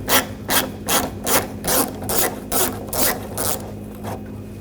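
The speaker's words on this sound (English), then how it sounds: "Use a 10mm socket." A 10mm socket wrench backing nuts off the underbody shield of a 2014-2020 Nissan Rogue near the fuel tank, giving about ten rhythmic ratcheting bursts, close and fairly loud, with no talking.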